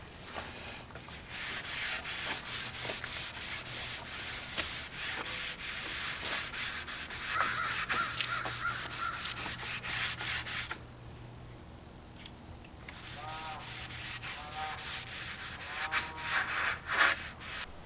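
Finish is rubbed by hand onto walnut trim during a salvaged mobile home rebuild, a steady close scratchy rubbing and wiping that keeps going with a few short pauses and no talk.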